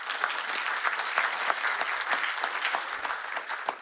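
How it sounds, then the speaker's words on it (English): A round of applause for a guest, with many hands clapping in a dense, steady patter at moderate volume throughout, with no voices over it. "But let's give him a round of applause."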